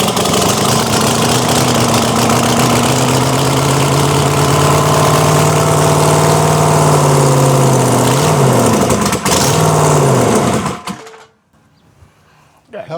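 A truck engine with no exhaust fitted runs loud and raw, idling with a steady rough roar for about eleven seconds, with a voice speaking over it, then cuts off abruptly into near silence.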